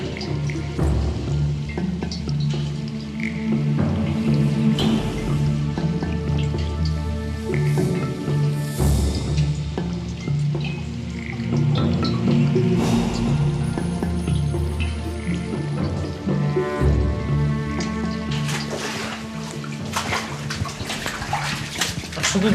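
Water drips and splashes inside a flooded cave, with steady trickling and irregular wet plops echoing continuously, no voices over it.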